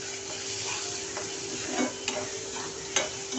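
Tomatoes and horse gram masala with turmeric and onion-garlic spice sauté in a pan, giving a low, steady sizzle broken by a few soft scraping and tapping stirs, close and fairly quiet throughout.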